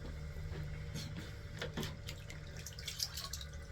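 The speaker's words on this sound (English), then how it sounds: "I'm rinsing out my bowl here, so it doesn't dry inside there." Water running steadily while a pottery bowl of grogged B-Mix clay is rinsed out, a soft continuous splashing close by with faint clinks over a low background hum.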